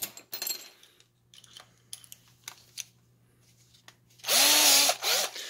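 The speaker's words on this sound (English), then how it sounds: "this is just a Harbor Freight drill" A Harbor Freight electric drill whines loudly for about a second near the end, after a stretch of quiet clicks, taps and handling noises.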